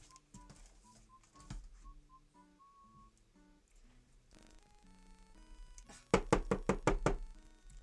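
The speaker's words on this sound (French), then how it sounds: "je vais devoir fracasser un peu le stylo" A pen is banged hard against a surface several times in a quick, loud burst of knocks near the end, after a quieter stretch of soft tones and taps while colouring.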